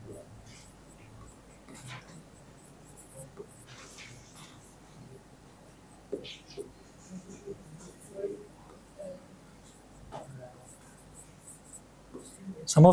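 Chalk or marker strokes on a board during a Class X chemistry lesson on acids, bases and salts, scratching in short irregular bursts at moderate closeness, with faint background murmur and no clear talk.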